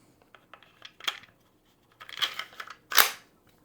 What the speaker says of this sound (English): We'll load another 6 rounds of the 8 gram AR Tactical Joules.